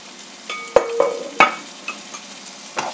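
A spoon stirring a couscous dish in a pan, with a few sharp scrapes and knocks against the metal among soft rustling and light sizzling, close and fairly loud, with no voices.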